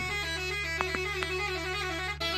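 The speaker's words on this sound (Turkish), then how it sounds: "kornalarımızı çalalım" A passenger minibus horn honks in a simulator game, a steady tonal blare held over a constant engine hum with a few faint clicks.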